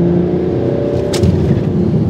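A BMW 335d diesel wagon accelerates under power, giving a steady low engine drone from inside the car with slight rising strain, heard alone and loud.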